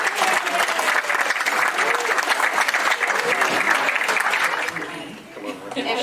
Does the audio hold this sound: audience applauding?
yes